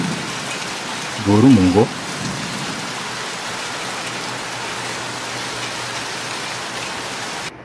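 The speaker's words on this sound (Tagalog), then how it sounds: "Grabe yung lakas ng ulan ngayon." Heavy rain pours steadily as a dense, loud hiss, with a brief spoken remark early on.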